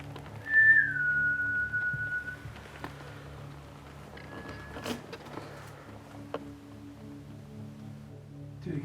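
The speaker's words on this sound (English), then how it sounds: "I'm sure I heard a whistle" A short whistle in a haunted hall, a brief high tone that glides down and holds for about a second over a low hum. A faint second whistle and scattered clicks follow later.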